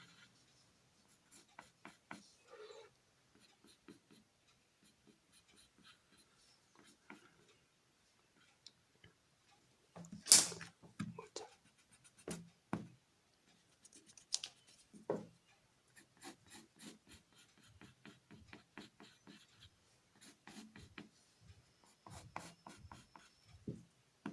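A pencil scratches and taps on paper while a cartoon figure's kneecap is drawn, giving quiet, close, intermittent strokes and scribbles, with one sharper scrape partway through.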